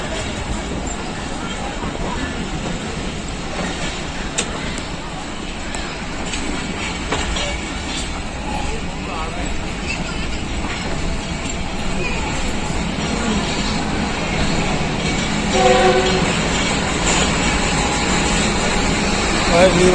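A Pakistan Railways locomotive hauling the Shah Hussain Express rolls past at a platform, loud and continuous, with steady rail rumble, wheel clatter and a brief tonal burst near the end that may be the horn.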